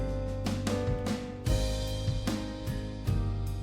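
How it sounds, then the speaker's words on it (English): A bass line in a Disney-style pop arrangement, with deep sustained low notes moving under cinematic piano and strummed guitar, with regular rhythmic accents about every half second. "And also the bass line is also very important."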